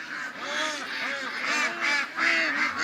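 A small flock of ducks quacking and honking close by, overlapping calls in irregular bursts with no pauses.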